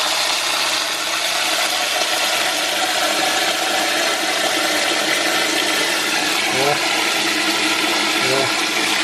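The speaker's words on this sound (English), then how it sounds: "Run the cold water for me." Cold water runs steadily from a tap as a broad, continuous hiss, close and unchanging throughout, with a couple of faint knocks near the end.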